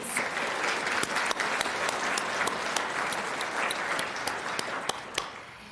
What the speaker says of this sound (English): We need to give him one more round of applause